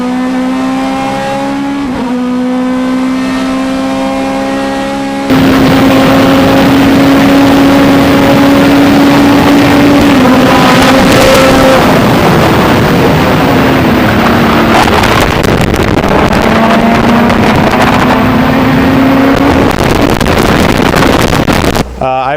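BMW Z4 GTLM race car on a track at Road America, a loud engine note rising and falling through gear changes with strong wind noise, while a person talks over it.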